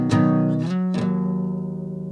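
Fingerstyle guitar plays a short passage: three plucked attacks, the last ringing out and slowly fading, close and clear with no talking.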